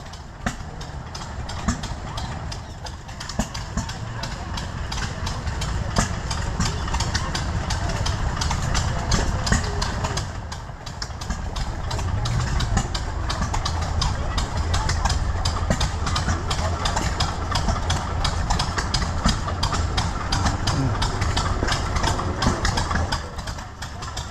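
A Wheel Horse garden tractor's gas engine idles at a county fair engine display, a steady low, rapid chugging that holds for the whole stretch, mid-distance, with faint crowd noise around it.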